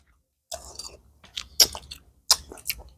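Salad and khanom jin noodles being eaten up close, with wet crunchy chewing and biting in several irregular bursts over a quiet background.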